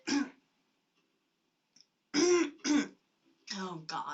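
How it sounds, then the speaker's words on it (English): Coughing fit blamed on winter air pollution in China: a short throat-clearing burst, a pause, then two heavy coughs and two more rough hacks close to the microphone. "That is my coughing fit."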